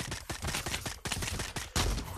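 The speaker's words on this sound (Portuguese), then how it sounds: "Foi um tiro muito bom esse aqui." Rapid gunfire in the VR shooter Pavlov VR, several sharp loud shots in a quick irregular burst over a couple of seconds, with a heavier blast near the end.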